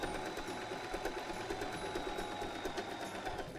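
A sewing machine runs steadily, stitching a fabric placemat with a built-in cutlery pocket, a continuous mechanical whir with a rapid needle rhythm throughout.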